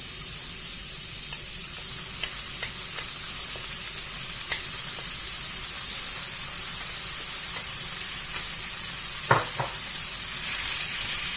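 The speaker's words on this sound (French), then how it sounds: "on va les faire revenir un petit peu, juste pour qu'ils relâchent leur jus" Courgettes sauté with browned onions in a pan, producing a constant hissing sizzle with scattered spoon taps and scrapes and one sharper clatter near the end, nobody speaking.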